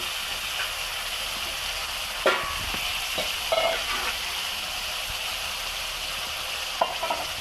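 Ginger, garlic and tomato paste sizzles in a pan for a fish curry, with steady frying hiss and several sharp stirring knocks and scrapes scattered through, close up and no speech.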